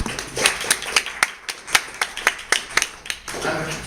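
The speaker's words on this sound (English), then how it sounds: "The applause is for you." Audience applause at a tech talk comes as a scattered, uneven burst of claps from a modest crowd, close and moderately loud, fading out toward the end.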